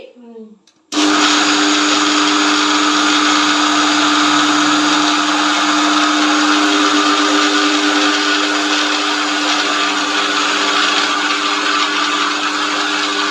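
A mixer grinder churns batter for Malnad roti with a loud, constant close-up whir that starts abruptly after a moment of quiet and runs steadily without a break.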